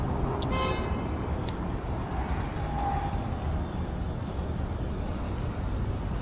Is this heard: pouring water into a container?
no